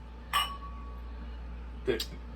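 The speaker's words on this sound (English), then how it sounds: "Clink. You clinked my finger." Beer glasses of imperial stout clink together twice in a toast, two bright, short chimes about one and a half seconds apart, with a quiet room tone underneath.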